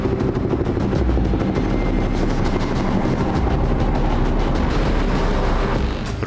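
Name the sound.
Indian Navy Romeo attack helicopter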